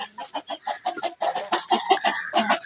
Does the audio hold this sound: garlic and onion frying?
no